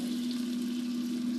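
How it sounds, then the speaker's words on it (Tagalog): A little water goes into a pan of broccoli and carrot stir fry in oyster sauce, giving a steady, soft sizzling hiss over a low constant hum, with no talking. "mag-add ako ng konting tubig."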